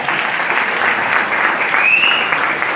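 A seminar audience breaks into dense, sustained applause, many hands clapping loudly and evenly for nearly three seconds.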